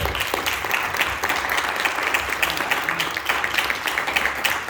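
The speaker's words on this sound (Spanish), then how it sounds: "Denle un aplauso a Dios." Church congregation applauding steadily in a worship service, dense continuous clapping filling the room at moderate loudness throughout.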